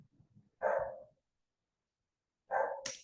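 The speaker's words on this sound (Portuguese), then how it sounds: "E ele está latindo agora." A neighbour's dog, one of three kept at a nearby residence, gives two separate barks about two seconds apart, moderately loud against a quiet background.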